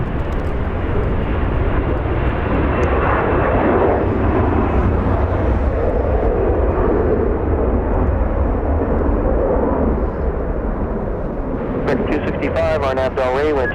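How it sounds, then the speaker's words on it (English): An Airbus A321 airliner at Los Angeles International Airport roars loudly and steadily, a broad jet engine rumble filling the whole stretch, with a brief burst of chatter near the end. "This one an A321, Airbus A321."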